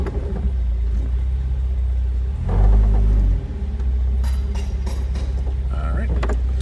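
A 1970 Mercedes-Benz 280SL engine rumbles low and steady as the car is put into reverse and then driven forward, with a brief louder surge in the middle of the steady drone.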